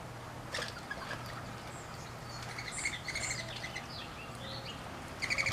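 Sparrows and other small birds chirping outdoors on a spring morning around a fence, scattered light tweets over a low steady hum, fairly faint and distant, with a brighter burst of calls near the end.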